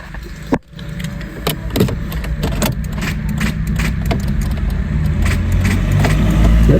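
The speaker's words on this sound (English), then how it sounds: "Cranks but doesn't start." A VW Golf MK6 engine cranks steadily without catching after a click of the key, a continuous churning starter sound that never settles into an idle.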